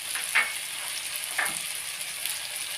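Chicken frying with red chilli, salt, turmeric and dried coriander gives off a soft, steady hiss, with two brief scrapes of stirring and no voices.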